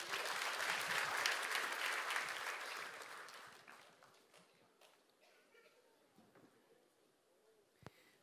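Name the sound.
church congregation applause at Christmas celebration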